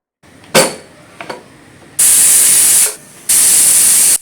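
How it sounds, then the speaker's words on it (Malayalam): A kitchen pressure cooker vents its leftover steam after one whistle, giving a couple of short metallic clinks and then two loud bursts of sharp hissing about a second each, close by. "ബാക്കിയുള്ള പ്രഷർ ഇതാ നമ്മൾ ഇതുപോലെ ഒന്ന് കളഞ്ഞു കൊടുക്കുകയാണ്"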